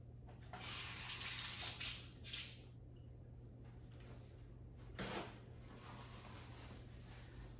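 Tap water runs as a part of a Breville Nespresso Essenza Mini espresso machine is rinsed under it, a close, soft splashing with a few louder gushes over a steady low hum.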